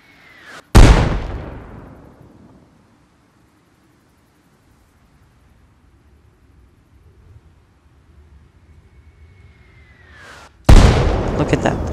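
Two mortar shells strike a house target in Arma Reforger, each a sudden loud boom with a rumbling, fading tail, the first near the start and the second about ten seconds later after a quiet stretch.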